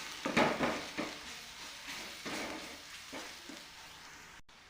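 Garam masala and homemade black masala are stirred together in a hot pan, giving several distinct scraping, sizzling strokes spaced about a second apart over a quieter frying hiss, close by and with no talking.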